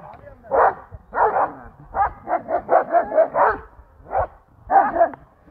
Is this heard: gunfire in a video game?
no